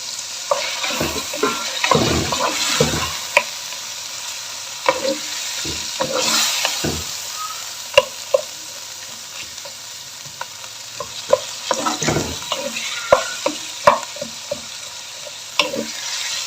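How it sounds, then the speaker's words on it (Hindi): Two medium chopped onions fry in a pan for a spicy bhindi gosht, a steady sizzle under repeated scraping stirs of a spoon, close and clear with no talking. "प्याज को 2 से 3 मिनट के लिए हल्का सा फ्राई कर लूँगी मैं"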